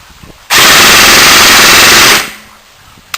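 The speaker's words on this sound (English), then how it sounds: "For those of you curious and want to hear the sound of 20 rounds a second" An MP5 SD6 airsoft gun fires a single continuous burst at about 20 rounds per second, a loud, dense rattling buzz lasting under two seconds, then quiet.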